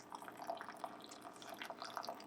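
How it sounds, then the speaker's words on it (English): Hot water trickles slowly from a kettle into coffee grounds in a wet paper filter in a Chemex coffee maker, a faint, continuous dripping patter with small splashes. "start to slowly pour the water into that divot or target I made earlier"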